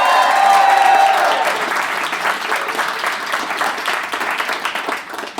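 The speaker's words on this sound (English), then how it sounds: "Give me a round of applause if you've ever heard the show at all before." A live comedy show audience breaks into applause, dense clapping from a full room with a few cheers at first, then gradually thinning out.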